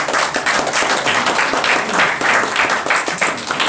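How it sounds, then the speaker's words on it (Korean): Loud, dense applause sweeps through the audience at a political coalition launch rally. Many hands clap close together in a steady wash of sound for several seconds without pause. "박수 한번 주십시오."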